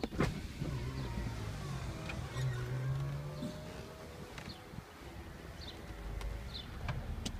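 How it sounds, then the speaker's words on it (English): Electric power top of a 2005 Chrysler Sebring Limited convertible folding down: a steady motor whine with shifting pitch, punctuated by a few clicks and clunks of the mechanism, heard close up in a quiet setting. "I want to show you how to put the top down in this car."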